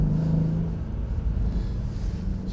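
Mercedes-AMG car engine pulling under light throttle on a track, a low rumbling drone with a brief rising tone early on, moderately loud and steady inside the cabin, no talk.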